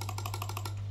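A computer mouse is clicked rapidly during a clicking test, about seven evenly spaced clicks in one second over a constant low electrical hum.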